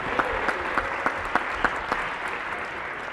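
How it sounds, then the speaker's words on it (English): Crowd applause at a school convocation, with a rhythmic beat of clapping on top, steady for a few seconds before trailing off, no talking. "Give him a round of applause for his help."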